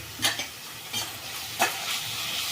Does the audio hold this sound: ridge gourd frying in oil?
yes